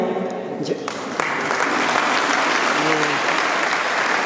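Applause from an audience at a youth awards ceremony, building into sustained, dense clapping after a short stretch of speech over it.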